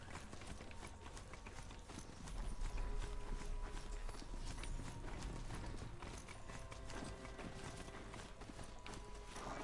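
A machine horse mount gallops in the video game Horizon Zero Dawn, with rapid rhythmic clip-clop hoofbeats and mechanical clanks, steady and continuous, growing heavier after a couple of seconds.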